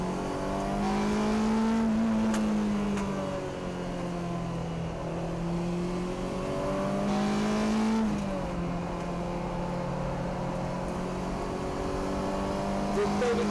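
Race cars lapping Tsukuba circuit, a loud in-car engine drone that climbs and drops in pitch through repeated gear changes, with someone talking over the steady mechanical roar.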